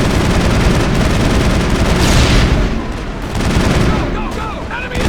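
Loud, close gunfire fills a Mass Effect firefight, with dense automatic bursts and heavy booms blending into a constant roar and a brief lull near the end.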